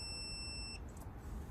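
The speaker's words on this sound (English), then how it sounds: "once you hear that consistent, steady beep, that's how you know you've hit the torque that you want" A 3/8-drive digital torque wrench beeps at target torque, giving a single high, steady electronic tone held for under a second before cutting off, over faint low background noise.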